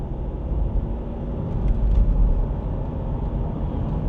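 A Land Rover with a 2.2 litre diesel engine accelerates, its low, steady rumble swelling slightly around the middle before settling, heard close from the cabin with no voices.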